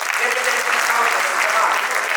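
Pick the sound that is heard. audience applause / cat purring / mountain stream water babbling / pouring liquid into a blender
audience applause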